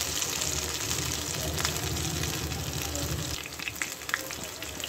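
Hyderabadi chicken korma with green moong sizzles steadily in a pan, a dense, continuous frying hiss that stays loud and close throughout with no talking.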